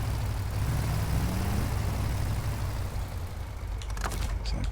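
Heavy truck engine in the off-road driving game SnowRunner runs at a steady low rumble, loud and continuous, with a brief mechanical clatter near the end.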